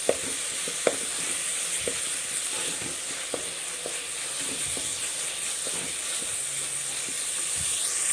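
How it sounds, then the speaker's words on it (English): Coriander and mint leaves fry in a spicy masala for ghee rice, giving a steady, close sizzle with faint clicks of stirring scattered throughout. "A handful of coriander leaves and then a handful of mint leaves I have taken for this. Fry this up nicely in this masala itself."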